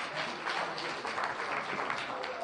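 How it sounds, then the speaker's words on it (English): A crowd claps steadily in a dense, continuous wash of applause that holds at an even level throughout. "Everybody, big round of applause."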